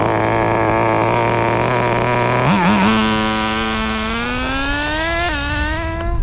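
Kyosho FW-06 nitro RC car with its included .15 engine, two-speed transmission: a loud, buzzing engine whine rises steadily, dips sharply at a gear shift, then climbs again with a smaller second drop, continuous and close.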